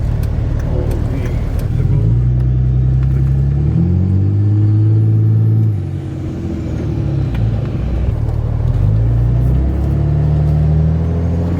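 Armoured, bullet-proof Dodge Ram 2500 pickup truck with a turbocharged engine, heard as a loud, steady low rumble from inside the cab whose pitch climbs and falls as it accelerates and eases off.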